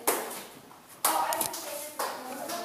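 Students in a classroom clap together in unison, giving three sharp group claps spaced roughly a second apart, each ringing out briefly against a low murmur of voices.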